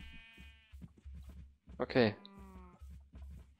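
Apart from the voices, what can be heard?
sheep bleating in the video game Minecraft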